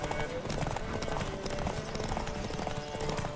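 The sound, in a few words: horse galloping, from video game The Witcher 3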